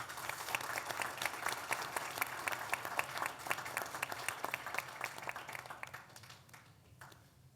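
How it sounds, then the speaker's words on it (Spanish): Audience applause for the panelists at the close of a conference session on network investment, a dense, steady burst of many hands clapping that fills the room and tapers off toward the end. "un fuerte aplauso para todos ellos"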